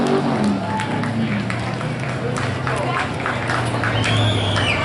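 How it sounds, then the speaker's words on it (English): Audience applause and crowd noise at a drift event after driver Nick Martin's run, a steady spread of clapping and cheering held under an announcer's continuous commentary over a loudspeaker. "Round of applause for Nick Martin, keeping it safe and out of contact."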